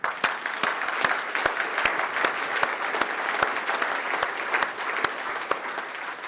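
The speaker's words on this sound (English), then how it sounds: "And please join us in a round of applause." Audience at a symposium giving a round of applause, sustained dense clapping with a few sharp individual claps standing out, steady and fairly loud throughout.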